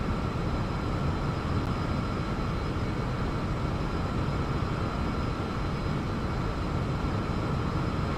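Boeing 737 climbing in the X-Plane 11 flight simulator game, a steady broadband engine roar that holds constant and loud throughout with no talk over it.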